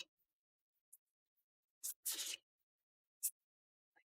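Playing cards shuffled for a Marvel Champions card game: a few short papery riffles and one longer burst of flicking cards, close and quiet, separated by silence.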